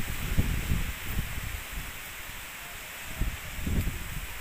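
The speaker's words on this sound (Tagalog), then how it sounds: "Ayan, super lakas ang hangin." Strong wind gusting through trees high on a mountain, a steady rushing rustle of leaves with swelling low-frequency buffeting gusts, fairly close and loud with no talk.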